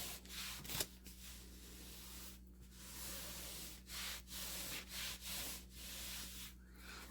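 Paper being rubbed down by hand onto a journal page, a soft continuous scuffing with brief pauses between strokes, close and steady with no talking.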